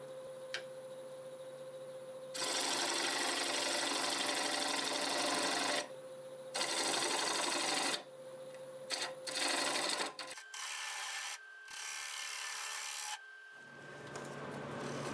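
Wood lathe turning a tenon on a plum wood blank: close, loud bursts of gouge cutting come and go over a steady motor hum, with quieter gaps between cuts.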